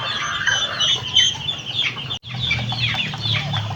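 Backyard native chickens cluck and squawk close by, a busy overlapping chatter of several birds with a brief gap in the middle, with no talking over it.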